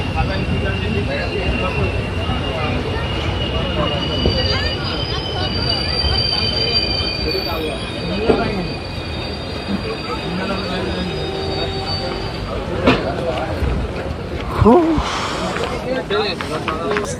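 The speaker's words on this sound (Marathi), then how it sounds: "ट्रेन आता भरपूर स्पीडने धावते आहे." A train on the Konkan route to Mumbai rumbles along at speed with a loud, continuous roar of wheels on rails and intermittent high metallic squeals.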